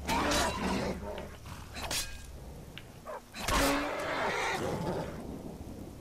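Horse in the video game Skyrim on PS4 neighs and whinnies loudly over a rain-like game ambience, with a second whinny partway through.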